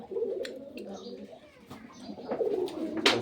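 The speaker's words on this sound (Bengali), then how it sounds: "এই যে কবুতরের ফার্ম" Pigeons at a pigeon farm coo in low, rolling bursts close by, with scattered rustling and someone speaking over them.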